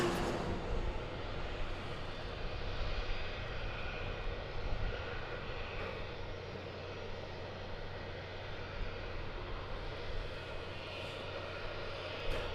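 Airplanes at DFW Airport during morning plane spotting give off a steady, fairly distant engine roar that swells a little and then eases off, with no talk.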